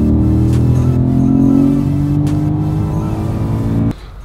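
Car engine held at full throttle, a loud, steady rising drone with strong harmonics for nearly four seconds before it abruptly drops off near the end.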